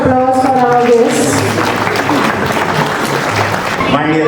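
Audience at a school National Mathematics Day celebration claps loudly for guests, a close, sustained round of applause with voices heard at the start and end.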